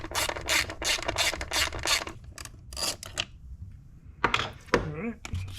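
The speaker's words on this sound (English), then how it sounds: "You'll need a somewhat deep socket to pull that out" A deep socket working loose an 8mm stud on the coil pack of a Ford Bronco engine, with rapid ratcheting clicks, rubbing and a few metallic clunks, close up.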